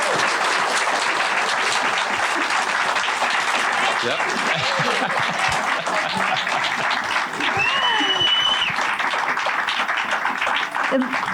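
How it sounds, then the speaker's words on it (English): An audience gives a round of applause for panelists at a mental health in sports event, a full, continuous roar of clapping with some murmured voices mixed in, holding steady throughout. "can we get another round of applause for our panelists?"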